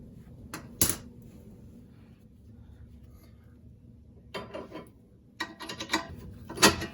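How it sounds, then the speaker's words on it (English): A ratcheting wrench tightens a sway bar end link on a Honda Pilot, giving short bursts of close, dry clicking separated by quiet pauses and a few sharp metallic taps, with no talk. "So really what I'm going to be doing is using a ratcheting wrench to tighten this up"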